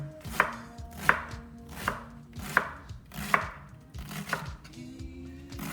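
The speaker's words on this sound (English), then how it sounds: "now I do the radicchio a little bit. I just do it in fine julienne." A knife chops radicchio into fine julienne on a cutting board for a broccoli and sweet potato salad, with about six distinct, evenly spaced thuds close up, and no talking.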